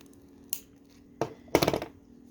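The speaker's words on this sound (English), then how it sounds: "Nah, I'll try to snip." Scissors snip through thin beading wire beside fabric bead dangles, giving three sharp close cuts, the last a longer crunching snip, in a quiet room.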